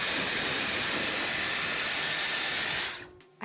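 A Dyson Airwrap blows hot air at the roots of someone's hair, a loud, steady high-pitched whoosh that holds for about three seconds and then cuts off abruptly.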